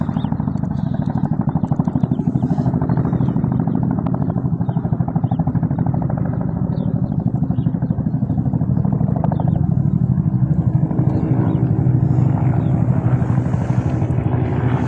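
Two Life Flight medical helicopters pass overhead at night above a house, a steady low engine and rotor drone that swells slightly as they move, heard from the ground with some wind buffeting.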